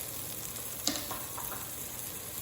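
Butter and garlic sizzle steadily in a hot pan, a continuous soft hiss with a few faint pops and a light clink near the start, with no voices.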